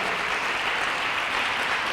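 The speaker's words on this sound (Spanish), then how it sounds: "¿Le puedes dar un aplauso al Señor Jesús por lo que estamos hablando?" A church congregation claps steadily, a dense and even wash of applause with no voices standing out above it.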